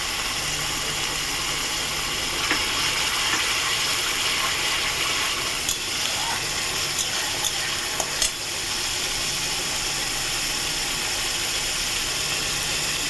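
Masala spice paste fries in oil in a pan for doi katla, giving a steady, dense sizzle with occasional scraping of stirring, close and continuous without speech.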